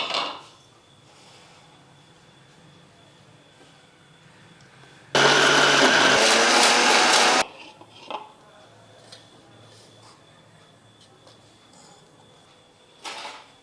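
A loud burst of clattering and rattling lasts a couple of seconds as soup ingredients are tipped into a mixer jar, with lighter kitchen clinks and knocks around it.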